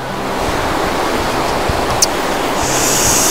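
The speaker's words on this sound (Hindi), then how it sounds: "ये देखो पार्वती नदी का नज़ारा" The fast-flowing Parvati river in Himachal roars in a dense, constant rush of water, loud and close, with no voices over it.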